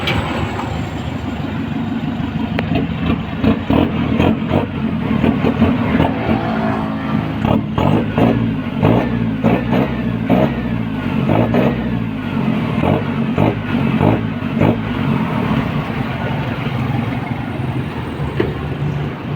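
A pickup truck engine, an Isuzu D-Max 1.9 with new front and rear exhaust pipes, revs again and again, loud and close, with rising and falling bursts over a rough idle and no talking.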